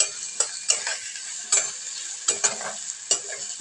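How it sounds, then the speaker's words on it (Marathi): Fried onion and ground masala paste are stirred together in a pan for a sprouted horse gram curry. The spoon scrapes in sharp, near, rhythmic clicks over a faint sizzle, with no voice. "त्याच्यामध्ये मी वाटण ॲड करते चांगला आपण एकजीव करून घेऊया"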